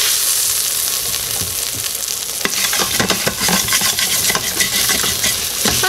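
A utensil scrapes repeatedly across the bottom of an Instant Pot while beef sautés, the sharp rhythmic scratches cutting through a steady sizzle, close and fairly loud, with no talk.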